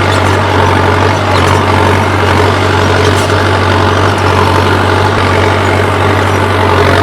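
A tractor pulling a cultivator across a field, its engine a loud, continuous low rumble that holds steady close by, with no voices.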